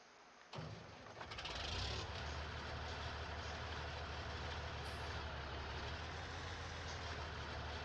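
John Deere tractor with a 16-speed Powershift transmission in Farming Simulator 19 rolling along in first gear: an engine that starts abruptly, then settles into a steady, close diesel drone.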